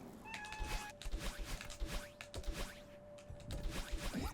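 A pet cat meows several times close by, short vocal calls repeating irregularly over a busy background of game music and clicking tones.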